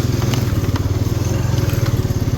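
Honda four-wheeler ATV riding through the woods, its engine close and loud with a steady, rapid throbbing pulse and a light rattle of the machine over the trail.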